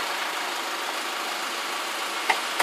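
A Kia Bongo 3 diesel truck fitted with a BHS turbo intake idles nearby, giving an even, airy whooshing hum with two faint clicks near the end.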